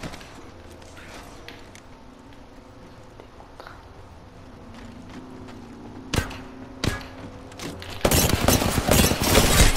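Enemy gunfire cracks out in Apex Legends: a few sharp isolated shots land near the middle, then a dense, loud burst of rapid fire closes out the stretch over quieter game background.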